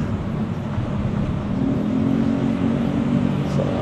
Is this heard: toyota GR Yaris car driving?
yes